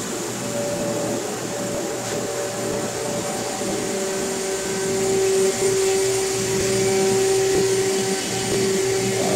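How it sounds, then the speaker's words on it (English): A CNC router cuts solid-core black MDF side pieces, giving a loud, steady whine of spindle and dust extraction with a sustained tonal pitch that holds for several seconds, close and continuous. "I decided to cut the side pieces in the CNC machine."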